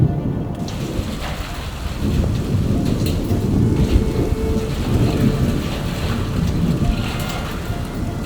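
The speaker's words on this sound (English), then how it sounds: "I guess it's just thunder, right?" Heavy rain pours down while deep thunder rumbles and rolls through, a dense, loud storm wash with low booms swelling in the background, at Palo Duro.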